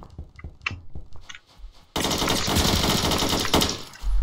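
An AKM rifle fires a long rapid burst in the Roblox game Phantom Forces, loud and sustained after a few scattered quieter shots and clicks.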